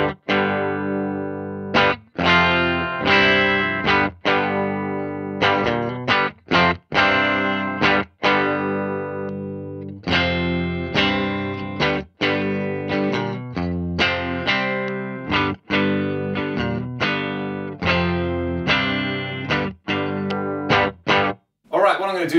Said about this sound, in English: Sounds like this with the master at noon and the gain at noon.